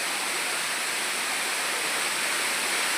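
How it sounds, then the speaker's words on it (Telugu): A large waterfall in the Palakonda hills near Kadapa roars as a steady, dense wash of falling water, loud and unbroken throughout with no voices. "ఇది వాటర్ ఫాల్"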